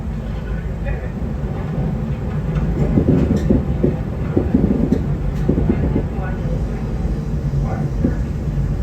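Passenger train rolling along rails, a steady low rumble with faint rhythmic clicks throughout, with a voice talking over it.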